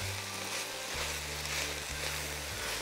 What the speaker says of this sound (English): All right, stir that up.